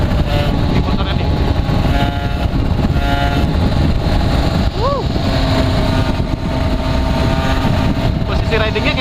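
An Aprilia RS two-stroke motorcycle engine idles steadily and loudly up close, a dense continuous drone with a brief rising blip partway through.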